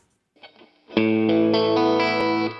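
Electric guitar played through a clean signal with compression, heard after a brief soft lead-in: a loud strummed chord rings out and sustains evenly, with a few more chord hits layered over the ringing.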